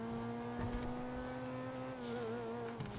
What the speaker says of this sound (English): Let's just admire the sheer beauty of this car as we drive it right now.